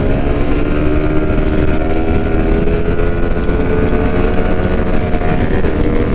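Many motorcycles, including a 155 cc bike, on a Sunday group ride pulling away together, a dense close engine drone with layered revving that holds steady and loud throughout, no talk.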